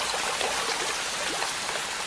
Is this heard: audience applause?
no